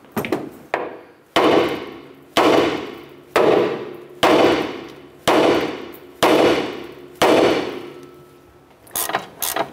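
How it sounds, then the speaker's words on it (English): A hammer strikes the steering knuckle of a 2008-2012 Honda Accord to free the upper ball joint, with seven or eight loud, close metallic blows at a steady pace of roughly one per second, each ringing out briefly. "Now we're going to go ahead and strike our knuckle, and this should release our upper ball joint."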